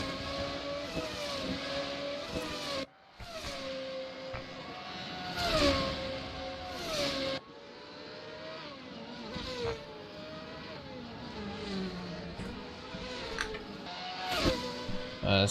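Formula 2 race cars from the 2017 season in the Assetto Corsa racing game, at the Hungarian Grand Prix, with engines whining loudly and continuously as they rise and fall through gear changes, several cars passing near.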